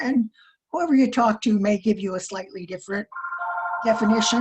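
A mobile phone rings, its steady electronic tone rising in over the last second and a half while a presenter keeps talking through it.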